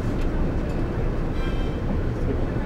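Kintetsu Aoniyoshi limited express, a 19200 series tourist train, passing through Yamato-Saidaiji, heard as a steady, loud rumble of rolling wheels and motors throughout, with no talking.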